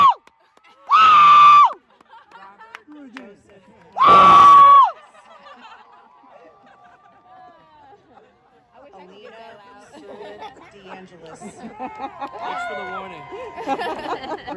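Two loud, sustained screams ring out at a graduation ceremony, each about a second long, followed by crowd chatter, chuckles and cheering that build toward the end.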